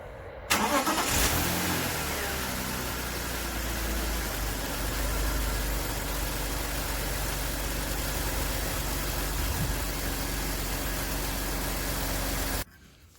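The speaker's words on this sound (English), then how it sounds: "we are going to start the car once again" A BMW E46 engine cranks and catches, then settles into a steady, loud idle close by, with a brief rev near the start and the running engine cut off abruptly near the end.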